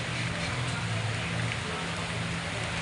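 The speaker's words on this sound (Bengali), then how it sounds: "দেখো কী পরিমাণ বৃষ্টি পড়ছে" Heavy rain pouring steadily outdoors, a dense, unbroken wash of falling water with a low rumble beneath, loud and close for the whole stretch.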